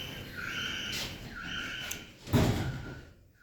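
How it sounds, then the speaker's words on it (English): Steady electronic beeps sound as the doors of an Oakland (Mod. Tec) hydraulic elevator at a Southampton Matalan slide closed, finishing with one soft thump before the hum fades. "Doors closing."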